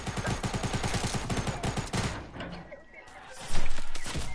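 Rapid automatic gunfire from the video game Fortnite, a dense burst of shots, a brief lull, then another loud volley, with players talking over it.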